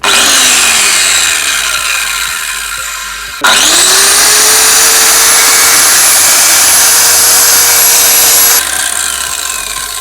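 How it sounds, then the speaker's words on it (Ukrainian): A DWT HKS12-59 hand circular saw, a 1250 W model with a 185 mm blade at 6000 rpm, starts up with a rising whine. It then runs at a steady, loud, high pitch and spins down at the end, with no talking. "запускаємо пилку"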